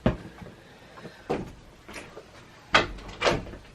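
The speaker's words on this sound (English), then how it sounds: "gotta shut the door." An indoor door being shut, with a series of soft bumps and then two firmer thuds near the end, heard close up at modest loudness with no speech.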